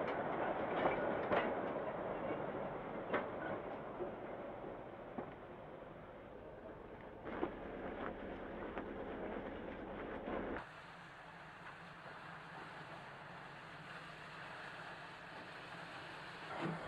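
A train on the Gotland railway in Sweden rumbles and clatters along steadily and faintly, with occasional rail clicks, the tone shifting partway through.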